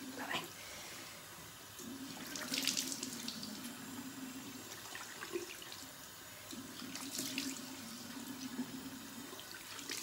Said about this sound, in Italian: Adesso mi sciacquo, l'acqua è comunque nera